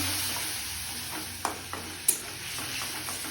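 Spice paste of Kashmiri chilli, coriander and turmeric powders frying in oil as it is stirred, a steady soft sizzle with a few louder scraping clicks of the spoon against the pan.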